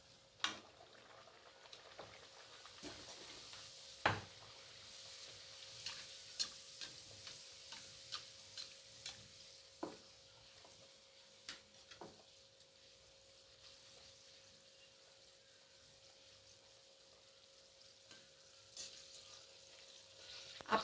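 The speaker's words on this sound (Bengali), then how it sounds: "আমি এবার এক এক করে ভেজে নেব।" Kachori deep-frying one at a time in hot oil for a Bengali street-food dish: a faint, steady sizzle runs throughout, broken by scattered sharp ticks and clinks from a utensil.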